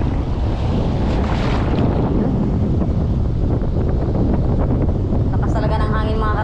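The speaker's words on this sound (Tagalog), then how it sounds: "Lakas talaga ng hangin mga katangay." Strong northeast monsoon wind roars across the microphone at sea during lure fishing, a loud continuous buffeting rush with no gaps.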